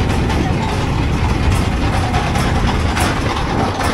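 A trawler boat's engine idles steadily at a river ferry ghat on the Panguchi River at Morrelganj, a continuous low rumble that stays loud and even throughout.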